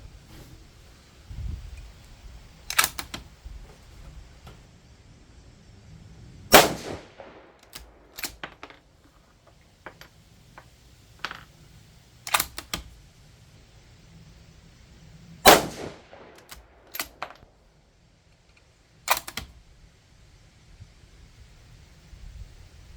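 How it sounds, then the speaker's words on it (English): Six sharp 6mm ARC rifle shots loaded with 95gr Berger VLD bullets crack out at uneven intervals over about twenty seconds outdoors, each loud report trailing into a brief echo, with soft wind noise between. "We'll go ahead and try to shoot these last 5."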